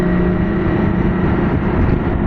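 Steady, loud wind roar and buffeting around a rider on a 2024 BMW K 1600 Grand America Option 719 Midnight touring motorcycle, a dense continuous rush with engine drone underneath and no break.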